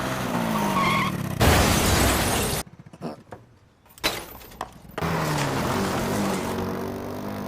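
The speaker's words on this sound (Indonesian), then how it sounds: "dia menabrak sebuah mobil yang terparkir di sana" A motorcycle in the 2007 film Crows Zero skids and slams into a parked car: loud roaring tire and engine noise, a sharp crash with shattering, a brief near-silent gap, then another impact and a return of steady noisy roar.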